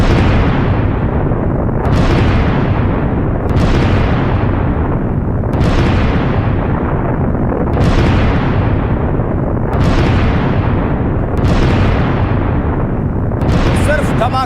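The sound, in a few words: explosions from strikes in Iran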